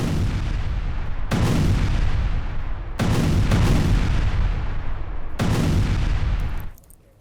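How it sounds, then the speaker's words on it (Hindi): Heavy bombardment during an air strike in northern Havrylivka, Ukraine, in wartime news footage: three long rumbling barrages of booming blasts, each starting sharply and rolling on for over a second, loud and close, then fading out at the end. "उत्तरी हावरिलिवका में भीषण बमबारी की गई है"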